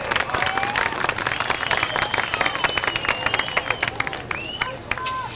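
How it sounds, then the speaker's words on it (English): Crowd clapping and cheering at a 1992 short-track race night at Beech Ridge Motor Speedway, a dense steady ovation with whistles and shouts mixed through the grandstand noise, without pause for the whole stretch. "once again, a nice round of applause for Phil Weeks."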